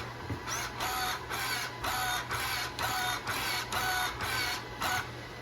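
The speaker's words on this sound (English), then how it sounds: "I want to see how fast that steering servo turns" The steering servo on a Traxxas Maxx RC car whirs back and forth in quick bursts, about ten short, evenly spaced electric whines close to the mic, each separated by a brief pause.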